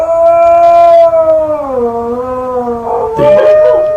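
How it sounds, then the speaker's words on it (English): A New Guinea singing dog howls in one long, loud, close call whose pitch swoops up and down dramatically, sliding through wavering tones before breaking into a rougher, yipping ending. "The pitch of the dog's voice is going up and down more dramatically than you find in most other canid species"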